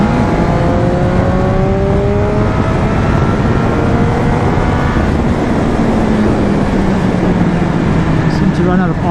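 A 2020 Triumph Speed Triple RS motorcycle engine drones loudly and steadily while riding, its pitch rising and falling through the gears along with rushing wind noise.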